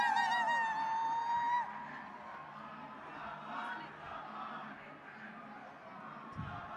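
At Chief Minister Naveen Patnaik's welcome in Nuapada, Odisha, a crowd gives a shrill, wavering ululation, loud and bright at first, then fading into a steady murmur of crowd noise.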